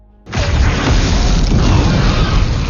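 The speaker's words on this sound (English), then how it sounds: "The moment they light a match, a big explosion happens due to trapped gas." A trapped gas explosion set off by a lit match bursts in with a sudden heavy boom, then a loud, sustained rumbling roar that fills the rest of the moment with no voices.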